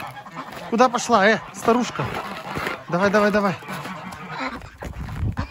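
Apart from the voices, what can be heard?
goose honking in a farmyard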